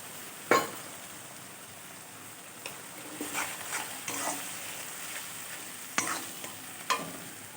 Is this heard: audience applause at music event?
no